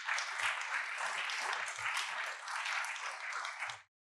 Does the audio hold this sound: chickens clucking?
no